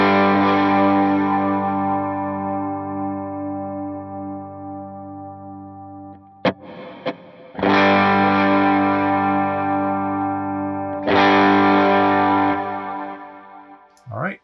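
An electric guitar played through an HX Stomp with distortion and heavy reverb: a long ringing distorted chord fades, then a few short picked notes lead into two more struck chords that sustain and decay.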